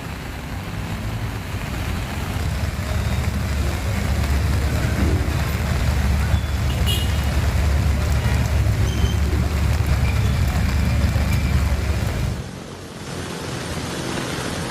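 Vehicles of all kinds creep through floodwater on Jalan Fatmawati toward Blok M in Jakarta, giving a loud, continuous wash of sloshing water and engine rumble that drops off abruptly near the end.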